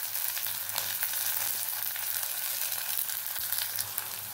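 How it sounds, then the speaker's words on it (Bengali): Sliced green chilies fry in a pan with a continuous close sizzle and crackle, along with occasional faint stirring noises. "দিয়ে দেবো কাঁচা লঙ্কা, এটা পিস করে ভেজে নেবো ভালো করে।"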